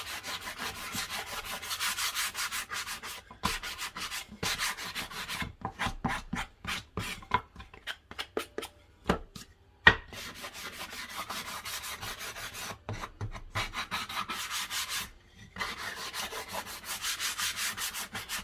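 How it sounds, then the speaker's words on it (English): A sanding block rubbed across a wooden 1-by board to knock off splinters, giving steady rasping strokes in bursts with short pauses, close and fairly loud, no talking. "my sanding block here and just sand just a bit to ensure there are no splinters"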